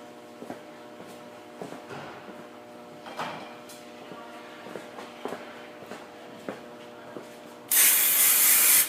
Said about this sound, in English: Then use a little bit of brake clean.